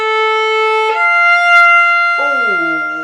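A violin sustains a steady bowed note, then slides up to a slightly sharp pitch and bends downward near the end, played alone and up close.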